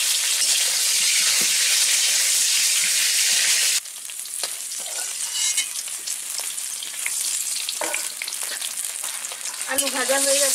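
Potatoes fry in hot oil in a home kitchen, a loud, steady sizzle that fills the pan, easing slightly midway, with a few clinks of a utensil near the end.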